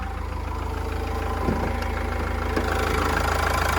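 The 2.5-litre diesel engine of a 2007 Renault Trafic van idles steadily with a low, even chugging rumble and a couple of faint clicks, close by and uninterrupted by speech.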